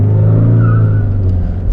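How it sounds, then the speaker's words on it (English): A fifth-generation Honda City diesel sedan with a manual gearbox launching hard from first gear, a loud, close engine roar holding steady with a rising whine, and tyre noise from wheel spin building near the end. "So here you can listen the wheel spin of rear."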